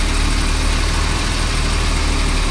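A BMW engine runs steadily with the air conditioning compressor loaded while refrigerant is being charged, giving a constant close, loud droning hum with low vibration and no pauses.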